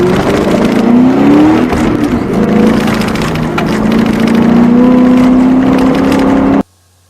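Ford Mustang accelerating hard on an autocross course, a loud close engine roar climbing steadily in pitch, then cutting off abruptly near the end.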